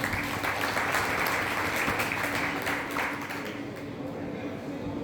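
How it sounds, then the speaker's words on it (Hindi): Loud, sustained applause fills a hall at a crypto token trading seminar, a dense wash of clapping from a large crowd that thins slightly in the last second. "तो इसके लिए जोरदार ताली"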